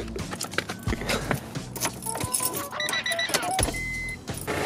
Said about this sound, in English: the fans work now, and that is the noise that it's creating